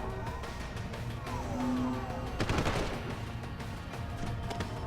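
Gunfire in a video game, a busy burst of shots with a denser cluster around the middle, heard amid loud game noise and engine-like rumble.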